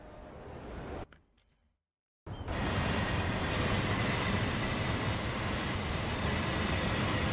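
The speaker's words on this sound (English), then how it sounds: "There's a train going through anyway." A train passes through a station in the Train Sim World 5 Frankfurt–Fulda route, its loud, steady rolling rumble rising after a brief quiet gap and continuing unbroken, with no talk over it.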